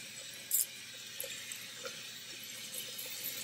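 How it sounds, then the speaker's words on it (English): Steady running water rinses conditioner off a six-week-old Aussiedoodle puppy during a bath, a soft continuous hiss with faint splashes and drips. "So we're now rinsing the conditioner off Jasper"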